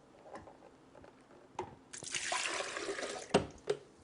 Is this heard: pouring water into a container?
yes